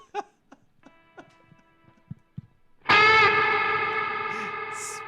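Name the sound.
guitar played through a reverb effects pedal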